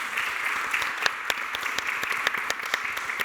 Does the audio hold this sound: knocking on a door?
no